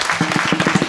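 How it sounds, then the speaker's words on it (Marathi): Children at a humorous kirtan clap in quick, uneven bursts, close and fairly loud, as brief rhythmic applause with a voice faintly mixed in. "टाळ्या टाळ्या वाजल्या पाहिजेसाठी"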